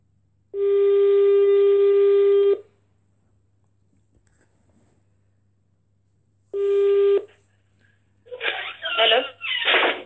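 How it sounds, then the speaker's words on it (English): A telephone call is placed, with two long, steady electronic ringing tones separated by silence, followed by a voice speaking on the line. "Let me quickly call the manager."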